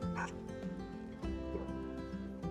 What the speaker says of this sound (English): Particularly friendly dog.